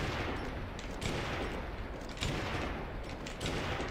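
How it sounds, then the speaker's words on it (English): Dense, continuous gunfire fills a GameCube shooter, 3/3 Gun, including rifle shots aimed at airborne targets, with periodic louder cracks standing out against a steady barrage. "Maybe I should try to use the rifle to shoot it out of midair."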